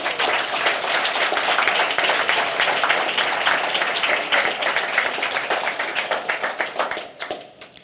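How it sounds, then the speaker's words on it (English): An audience gives sustained applause for staff and volunteers at a regional medical center event, dense steady clapping that fades out toward the end. "let's give them a round of applause"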